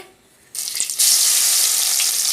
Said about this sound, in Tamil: அந்த தட்டினது பூண்டு நம்ம போட்டிருக்கோம் பூண்டு நல்லா வதங்கட்டும்